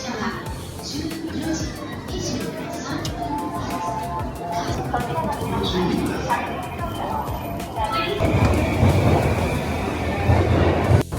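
Train at a Tokyo station, a rising rumble of rolling wheels and machinery that grows louder toward the end, with station tones and background voices throughout.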